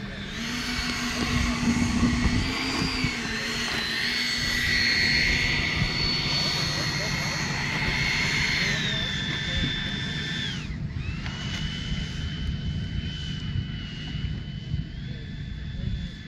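Large radio-controlled Tu-22 Blinder model jet taking off, a loud sustained turbine whine that rises and shifts pitch as it spools up and rolls away, with people talking over the engine noise.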